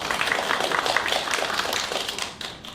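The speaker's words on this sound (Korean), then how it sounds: "나올 때 큰 박수로 환영해 주시고요" An audience at an anniversary ceremony in Incheon applauds as a team walks out, steady dense clapping that fades toward the end.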